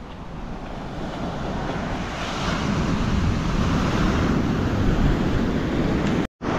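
Ocean surf rolls onto an unnamed beach along the road to Dhanushkodi, a loud, steady wash of breaking waves with wind buffeting the microphone, then a brief dropout near the end.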